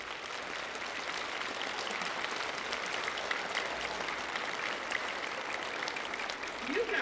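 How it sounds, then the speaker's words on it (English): Steady, dense applause from a school concert audience fills the whole stretch at an even level, with a brief higher sound near the end. "And we want to applaud."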